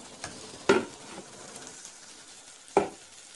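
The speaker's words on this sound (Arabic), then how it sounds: "تخليكي تشوحي الرز مع البصله والكبد والقوانص شويه قبل ما تحطي الميه" Rice sautéing with onion, liver and gizzards in a pan gives a quiet, steady sizzle, with two brief louder scrapes of stirring.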